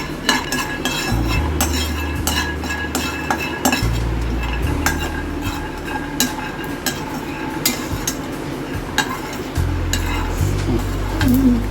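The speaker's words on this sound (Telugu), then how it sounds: "స్టవ్ ఆన్ చేసుకొని కొంచెం కడాయి వేడైన తర్వాత పల్లీలని డ్రై రోస్ట్ చేసుకోవాలి" Peanuts are dry-roasted and stirred in a metal kadai on a stove. A spoon scrapes and clinks against the pan in an irregular rhythm, with faint rattling of the nuts and a low background hum.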